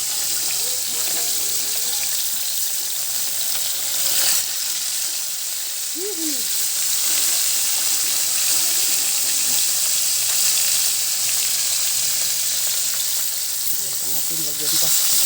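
Fresh fish frying in a hot pan gives a steady loud sizzle and hiss that holds throughout, with brief voices faintly underneath.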